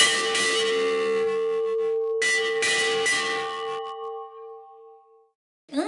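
An old farm bell at a family museum in Chã Preta struck twice, each loud metallic clang ringing out with a long sustained hum that slowly fades to silence.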